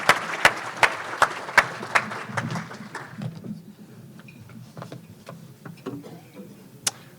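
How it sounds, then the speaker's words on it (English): A Rotary club audience claps after singing happy birthday, with sharp, evenly spaced rhythmic claps at first, then the clapping loosens into scattered, fading claps with a faint murmur and one last clap near the end. "Everybody clap."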